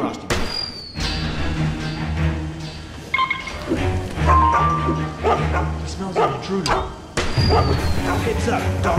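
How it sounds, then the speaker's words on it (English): A dog barking in a stealth video game, several loud close barks and yips among clattering game sounds. "Heads up, dog smells somebody."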